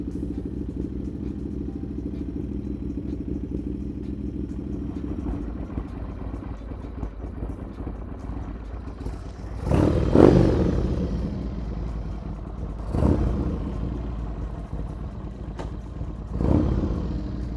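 A Harley-Davidson Sportster engine runs rich with the choke on, idling with a low, steady rumble, then blipped three times into loud, sharp revs that quickly fall back to idle.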